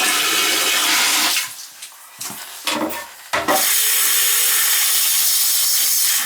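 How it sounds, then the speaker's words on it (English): Water drawn out of a running toilet's tank with sediment in the bottom, a steady broadband rush and gurgle that drops to intermittent sloshing and splashes, then returns to a continuous loud flow. "We'll pump some water out."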